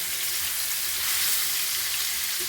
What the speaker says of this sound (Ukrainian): зараз я їх підсмажу